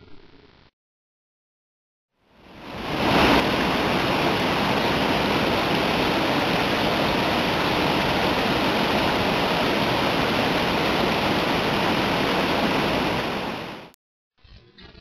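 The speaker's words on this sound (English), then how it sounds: "And again, never very far away from Soldier Creek." Rushing water of Soldier Creek flows loud and steady beside a hiking trail, a dense broadband roar that swells in after a quiet start and holds for about eleven seconds before cutting off.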